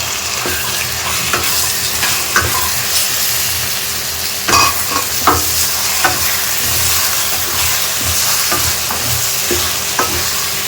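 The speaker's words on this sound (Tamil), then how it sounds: "எல்லாத்தையும் சேர்த்து நல்லா மிக்ஸ் பண்ணி விட்டுடலாம்." About half a kilo of prawns frying with onion and tomato in a pan, a loud continuous sizzle broken by repeated scraping stirs and knocks of the spoon against the pan throughout.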